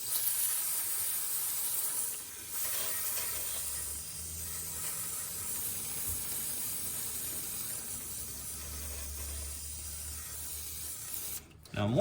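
Steady hiss of aerosol spray running for several seconds without a break, fairly close, with a brief pause near the end, spraying down parts of a flood-damaged 2006 BMW E46 M3.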